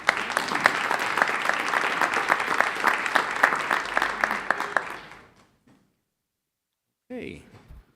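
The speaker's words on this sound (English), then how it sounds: "Let's give Sienna a round of applause" A room at a school district board meeting breaks into a round of applause, loud, dense clapping for about five seconds that tapers off into silence before a voice speaks briefly.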